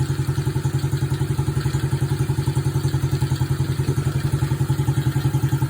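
An SSR SC70C small-displacement motorcycle engine idles steadily on a newly fitted carburetor, a close, even, rapid thumping putter that holds a smooth rhythm throughout with no talk.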